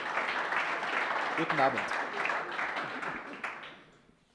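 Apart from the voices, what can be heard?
audience applause at start of election debate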